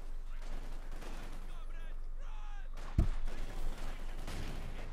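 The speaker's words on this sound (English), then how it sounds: "Mortar fire there being flung out." Mortar fire in the real-time strategy game Company of Heroes 2 lands as a sharp, booming impact midway through, with softer battle rumble and distant shots underneath and a commentator talking over it.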